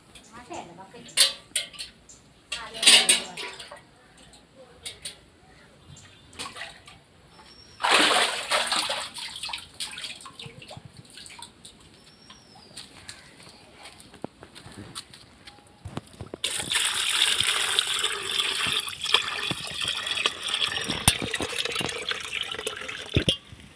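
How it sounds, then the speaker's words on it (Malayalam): Water is scooped and poured into a tin container while setting up a fish tank, giving intermittent splashes and sloshing with metallic clanks, some bursts loud and close, and a voice speaking between them. "ഇനി നമുക്ക് പാട്ടയിലോട്ട് വെള്ളം കോരി വയ്ക്കാം."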